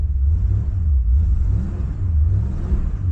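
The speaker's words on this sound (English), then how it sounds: "Take 2 at starting this car." A 1972 Chevrolet Impala V8 rumbles loudly at close range as it runs after starting, with a deep, uneven idle that swells and dips a couple of times.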